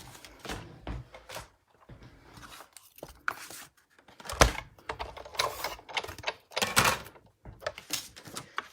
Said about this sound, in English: now I need to bring in the big shot to cut out my circles.